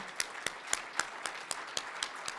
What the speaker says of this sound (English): a big round of applause for all our finalists for Business Person of the Year.